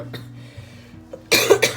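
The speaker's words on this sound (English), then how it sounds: "Sorry about the coughing, guys." A single hard asthma cough bursts out near the microphone after a quiet stretch with a faint low hum.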